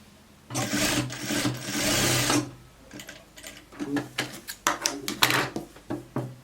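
A sewing machine topstitches a raglan-sleeve jacket in close, distinct bursts, one longer run of stitching followed by a series of short, stuttering stitch bursts.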